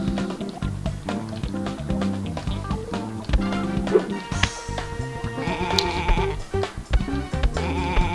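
Sheep bleating in the Sheep Raider video game, short cries scattered over busy game music and clattering effects.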